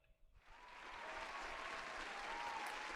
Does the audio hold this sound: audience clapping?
yes